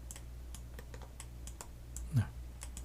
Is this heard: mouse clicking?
yes